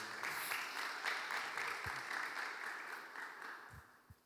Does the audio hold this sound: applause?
yes